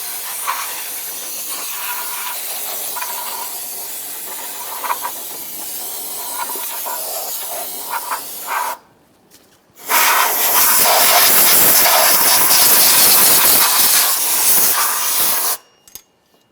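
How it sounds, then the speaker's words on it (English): Compressed air and parts cleaner blast onto the engine pulleys of a 1994-2001 Dodge Ram 1500 5.2L V8, loud continuous hissing, a brief pause, then a stronger, longer roaring blast that cuts off abruptly. "we're going to use a little bit of parts cleaner and some compressed air"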